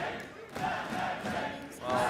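A large esports arena crowd at a League of Legends playoff semifinal between G2 and Fnatic cheers and roars in waves, a dense wash of many voices, with a faint caster voice underneath.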